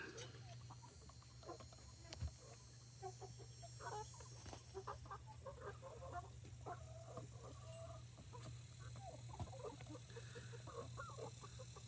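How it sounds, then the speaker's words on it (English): Backyard chickens cluck softly and repeatedly around a new feeder and water set, faint murmuring calls scattered over a steady low hum. "Looks like the chickens are starting to figure out there's food in there."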